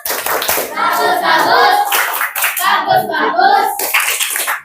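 Children clap together in a burst while young voices chatter and call out over it, loud and close, fading briefly before rising again.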